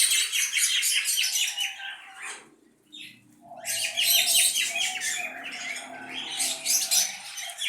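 A dense flock of small caged birds, including a parrot, chirps rapidly and continuously near the listener, with a brief burst of wing flapping and a short lull before the chatter resumes.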